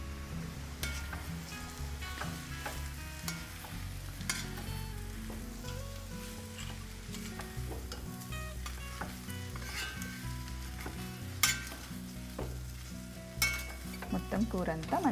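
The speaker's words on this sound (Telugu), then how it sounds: "మొత్తం కూర అంతా మంచిగా మిక్స్ చేసేసుకోవాలి" Fried spiny gourd pieces are tossed into a spiced curry with salt, chili and coriander powder, giving a steady loud oil sizzle under repeated spoon scrapes and stirring clatter, with a few sharper knocks near the end.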